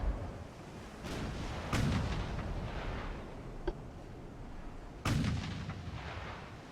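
Warship gunfire in the naval combat game Ultimate Admiral: Dreadnoughts, with several heavy booming salvos over a steady low rumble, two of them especially loud, plus a sharp crack near the middle.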